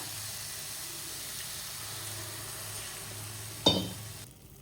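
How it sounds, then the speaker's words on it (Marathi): Beetroot drops into a hot pan for beet halwa, set on a low flame, with a soft background hum before a sudden sharp sizzle and clatter near the end that quickly fades, with no talking. "यात आपण बीट टाकून घेऊ"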